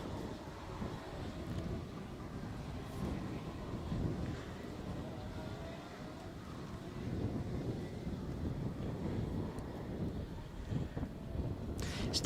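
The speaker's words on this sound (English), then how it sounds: "It's quite windy out on track, as you can see, with the flags waving absolutely everywhere." Wind gusting steadily across an outdoor kart race track on a day with flags flapping everywhere, a continuous broad rumble buffeting the microphone for the whole stretch.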